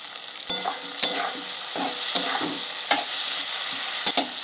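Potatoes added to a pan of fried onions sizzle steadily, with a spatula scraping and tapping the pan in several separate strokes.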